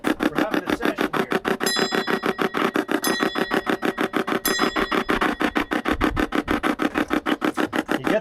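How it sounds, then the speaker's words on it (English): A hand bell is rung steadily and rapidly for several seconds during a ceremonial session. The strokes are close and loud in an even rhythm, with brighter ringing tones standing out now and then, and nobody talks. "I gotta ring that bell."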